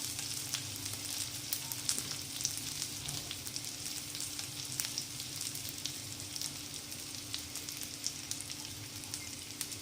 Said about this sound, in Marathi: दोन मिनिटं छान फ्राय करून घ्यायचं त्याला.